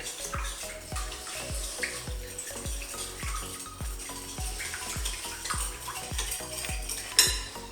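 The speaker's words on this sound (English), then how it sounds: "a spoon of rice vinegar. And mix it all together." A spoon clinks rhythmically against a bowl while a Chinese lemon chicken sauce with rice vinegar is mixed, steady repeated taps up close with no talking.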